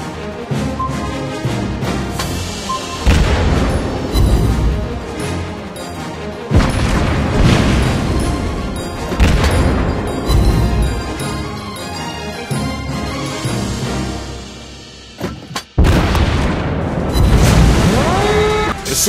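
Heavy booming explosions of ships in a World of Warships naval battle, several deep blasts rising and falling over rumbling music-like background, loud and sustained with one sharp break near the end.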